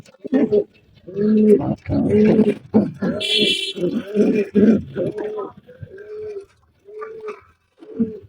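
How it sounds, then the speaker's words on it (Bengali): Giribaz pigeons feeding up close give a run of soft, rhythmic coos in repeated bursts, with a brief higher rustle partway through. "এটা হচ্ছে আমার গিলবাস কবুতর"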